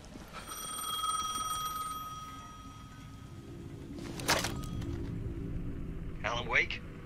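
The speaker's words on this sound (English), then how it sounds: "The payphone was ringing again." A payphone rings in the Alan Wake 2 video game, a sustained electronic ringing tone through the first couple of seconds, followed by a sharp burst and a later brief warbling sound, with no talking.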